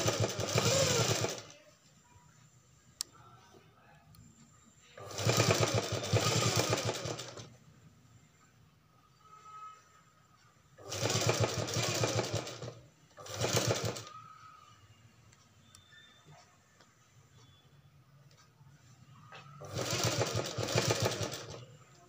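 A sewing machine stitches a designer blouse neck in four separate bursts of close, steady whirring, each a few seconds long, with quiet gaps between.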